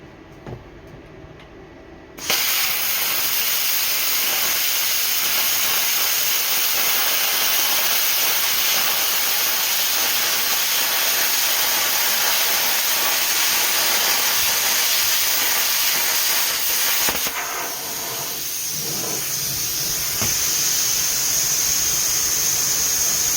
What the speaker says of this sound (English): Do a plasma cut with the PTC 500 DP.